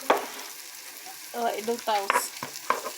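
Onion and garlic fry lightly in butter in a pan for a creamy pasta, a soft low sizzle broken by stirring scrapes and utensil clinks, with a voice talking over parts of it.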